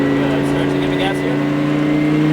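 Lamborghini Super Trofeo race car on a track, engine droning steadily and loudly throughout from inside the cockpit, a continuous high-revving tone with an instructor talking over it.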